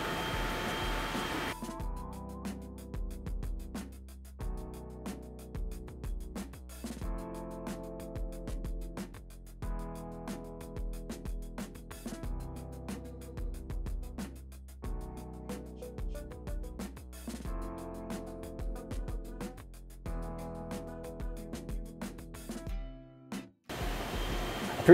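A pellet 3D printer printing a part hums and whirs in repeating bursts, with motor tones stopping and starting in a regular cycle over steady background noise.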